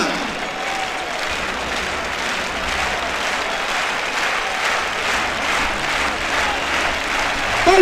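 Steady, dense applause from a large crowd at a recortes contest in the Valencia bullring continues throughout, filling the space evenly and swelling slightly at the very end.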